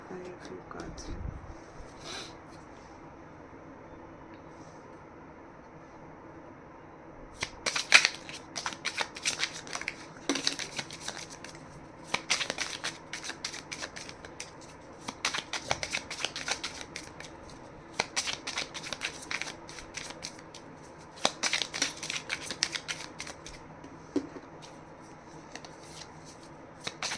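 Tarot cards being shuffled in repeated bursts of crisp riffling and flicking after a quiet start, close up, with a low background hum and faint voice at the beginning.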